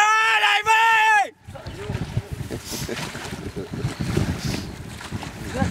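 Strong wind buffets a lakeside fishing spot at Ocna Sibiului with a rough, gusty rumble across the microphone, after a brief loud shouted voice at the start.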